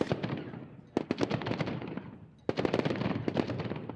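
Rapid bursts of gunfire at a shooting range, loud and close, with dense volleys of sharp cracks in two main strings separated by a brief pause.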